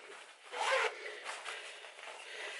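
A small zipper pocket on a travel bag for a cruise is unzipped in a quick close scratchy pull, followed by lighter rubbing of fabric, quiet and with no talk.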